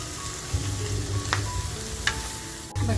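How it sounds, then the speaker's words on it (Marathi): Tiger prawns frying in a pan on a low gas flame make a continuous close sizzle and hiss, broken by a few light utensil clicks and taps. "तर बघा आपला टायगर प्रॉन्स असा छान फ्राय झालाय"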